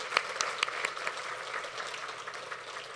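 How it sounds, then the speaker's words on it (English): An audience at an introductory speech breaks into a big round of applause, many hands clapping densely and steadily with a few sharper claps standing out, no voices over it. "give a big round of applause to her"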